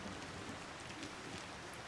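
Steady rain splashing in a dark fantasy video game cutscene, a dense, even hiss of falling water that stays faint and unbroken throughout, with no voices.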